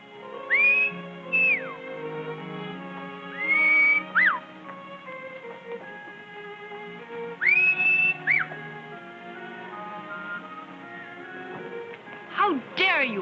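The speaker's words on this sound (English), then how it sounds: "I could have sworn I recognized that whistle." A person whistles several short rising-and-falling phrases in a quiet outdoor Western setting, clear and fairly close, with soft hoof clops and low background sound between phrases.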